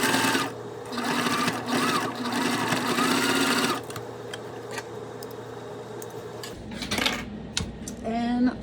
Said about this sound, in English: Sew this down at 1/4 of an inch.